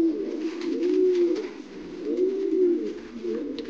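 A Grizzle King pigeon hen coos in rolling, repeated phrases, each a low throaty rise and fall, close up and clear with no talking over it.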